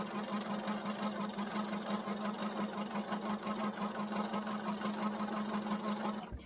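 A sewing machine stitches a heart quilt in a steady, continuous mechanical whir with an even rhythmic hum, stopping abruptly at the end; no voices.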